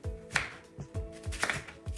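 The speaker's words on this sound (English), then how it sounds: "I'm chopping up some apple" A knife chops apple on a board for overnight oats, giving about five or six crisp, evenly spaced thuds with sharp cutting clicks, close and fairly quiet, with no talk.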